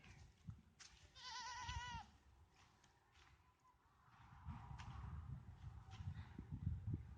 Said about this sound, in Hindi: ये पीछे बकरियों को चरवा रहे हैं